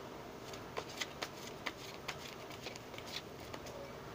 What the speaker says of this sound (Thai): ทีนี้เราจะดูคำแนะนำนะคะด้วยไพ่เทวทูตราฟาเอลค่ะ